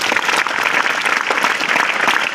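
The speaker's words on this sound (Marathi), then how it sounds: "म्हणून तुमच्यासाठी एकदा टाळ्या वाजवा मित्रांनो." School students applauding, a dense, even burst of many hands clapping close by for a couple of seconds, with no other voices over it.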